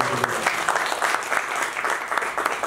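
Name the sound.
applause from members of parliament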